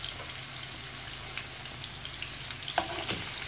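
Chicken with ginger and garlic sautéing in a pan gives a dense, steady sizzle close up, with a couple of sharper stirring clacks near the end.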